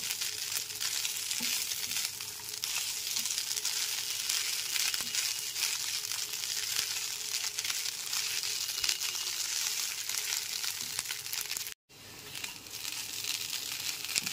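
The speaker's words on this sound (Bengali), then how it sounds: "চিড়ে আর বাদামটাকে খুব ভালো করে সবজির সাথে মিশিয়ে নেব।" Flattened rice and fried peanuts tossed with vegetables in a hot pan, a continuous close sizzle with scraping and rustling stirring strokes and a brief break near the end, no voices.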